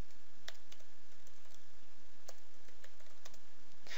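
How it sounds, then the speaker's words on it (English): Typing on a computer keyboard, with scattered key clicks tapping out a search term in an irregular rhythm, faint and close against a quiet background hum. "let's type in Classic Shell."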